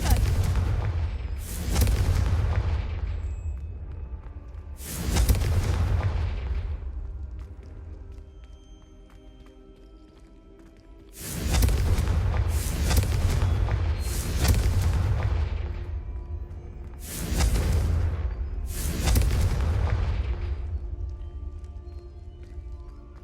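Fiery Confringo spell blasts go off in the Hogwarts Legacy video game, six heavy booming explosions arriving in irregular bursts, each followed by a long rumbling decay.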